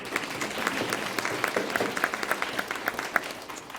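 A roomful of people at a board of education meeting break into applause, a dense patter of many clapping hands close by that holds steady for the whole stretch without talk.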